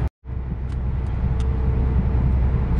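A car cruises along the Italian Alpine A2 motorway, a steady broadband road and engine roar that starts after a brief gap and carries on continuously, close and loud, with no voices.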